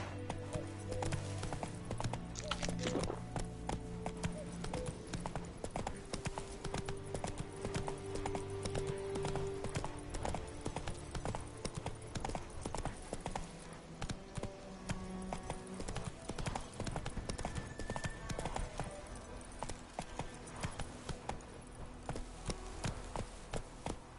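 Roach, Geralt's horse in The Witcher video game, running at a steady clip-clop gallop, hooves pounding close and continuous for the whole stretch, with no talking over them.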